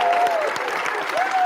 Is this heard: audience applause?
yes